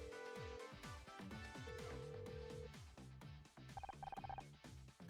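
A phone number being dialed in the video game Murder By Numbers: a quick run of distinct electronic keypad tones, each beep short and clear, with a steady rhythm and no voices.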